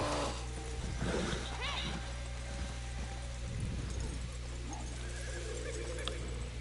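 A horse whinnies in the video game Red Dead Online on PlayStation 4, over steady background music and ambient noise, with soft hoof-like thuds scattered through the moment.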